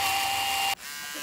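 A Dremel rotary tool runs with a steady high-pitched whine that drops abruptly to a lower, quieter hum partway through, close and alone.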